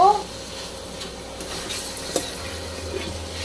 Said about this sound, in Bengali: এখন এটাকে খুব ভালো করে আমি কষিয়ে নিব।